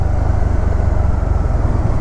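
A Spyder RT three-wheel motorcycle engine held at high revs, a steady loud low drone that stays constant through the short stretch, with no talk over it.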